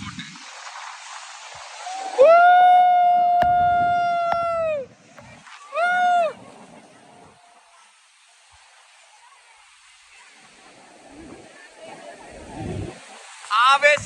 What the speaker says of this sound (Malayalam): നയാഗര വെള്ളച്ചാട്ടത്തിന്റെ ഉള്ളിലേക്ക് കുതിച്ച് കയറിക്കൊണ്ടിരിക്കുകയാണ് ബോട്ട്